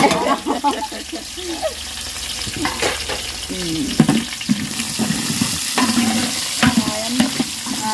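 Sliced onions sizzle in a pot of hot oil as the base for chicken biryani, with steady frying hiss, clattering stirs and scraping throughout, and some voices underneath.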